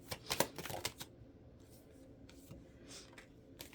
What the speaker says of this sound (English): I'll go one more shuffle.